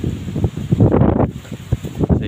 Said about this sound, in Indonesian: angin juga tertiup kencang.